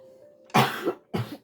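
Two sharp coughs, close and loud, the first longer and followed by a second after a brief pause, with no talking.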